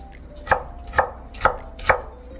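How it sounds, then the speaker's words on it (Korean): Knife chopping food roughly into square pieces on a cutting board, four sharp evenly spaced chops, close and clear with no talk. "듬성듬성 썰어서 네모나게 썰어주세요"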